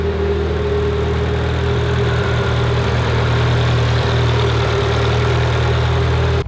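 A Mitsubishi Evo 9 engine runs just after its first start following repairs, idling loud and close with a steady, even drone and a faint rhythmic pulse throughout.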